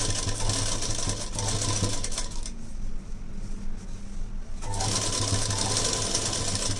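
A sewing machine stitches a long puff sleeve onto a lined, frilled blouse, running in a loud steady whir that stops briefly midway and then starts again, with no voice over it.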